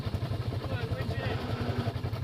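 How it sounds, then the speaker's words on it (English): A winch hauls in an RZR side-by-side on a night creek crossing, a steady pulsing motor drone close by, running without a break under people talking. "Come on, winch it"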